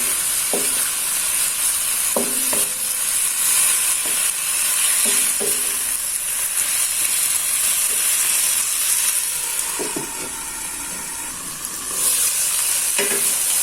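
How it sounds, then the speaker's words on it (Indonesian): Chicken sizzles and fries in a pan with spices while being stirred and turned, a steady close hiss broken by repeated clanks and scrapes of the utensil against the pan. "Nah ini tetap di aduk-aduk, dibalik-balik ya."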